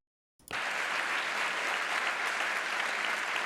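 An audience breaks into applause after a brief silence, dense steady clapping that starts suddenly and continues evenly without voices.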